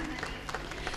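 Brief outdoor applause from a crowd at a flag hoisting ceremony opening a women's polo tournament, a muffled clatter of clapping with a low background rumble.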